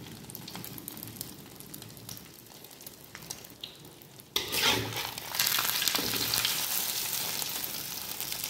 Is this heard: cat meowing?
no